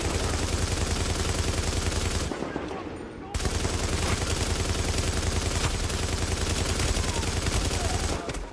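Light machine gun firing in Tom Clancy's The Division: long, dense bursts of rapid automatic fire, loud and close, broken by one short gap before the sustained stream resumes.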